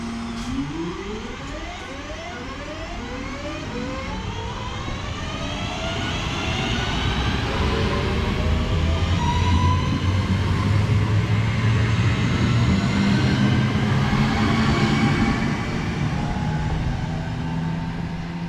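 Northern electric train 323239 pulling out of Congleton station in Cheshire, a rising motor whine that climbs in pitch and builds to a steady, loud drone with rumbling running noise.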